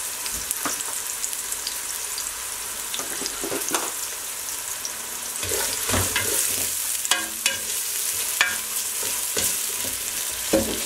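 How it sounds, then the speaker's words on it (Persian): Onions frying in oil in a pan, a loud close sizzle broken by repeated scraping and stirring strokes of a utensil, with no talking. "پیازه گلابی میکنم"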